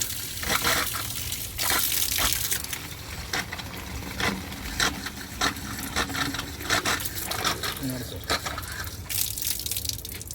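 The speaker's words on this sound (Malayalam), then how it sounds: "ഇപ്പോൾ ഫിൽറ്റർ ചെയ്താണ് വെള്ളം വരുന്നത്" Filtered water flowing from the outlet pipe of an RO water purifier, a steady gushing, splashing stream close by with brief clinks and shifts in the flow.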